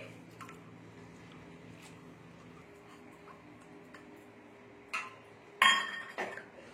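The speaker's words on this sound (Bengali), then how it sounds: "এগুলো আমি সব একসঙ্গে ধুয়ে নিচ্ছি" Red lentils and rice are washed together in a bowl: quiet watery swishing and soft grain rustle, then a few louder clinks and knocks against the bowl near the end, close and without talk.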